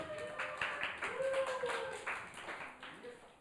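A middle-school youth group at a church worship service claps in a scattered burst of hand claps while a voice talks over it, fairly faint and roomy.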